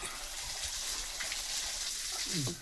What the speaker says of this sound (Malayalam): കുറേശ്ശെ തുറന്ന് ഫുള്ള് ഗ്ലാസ് നിറച്ചെടുക്ക്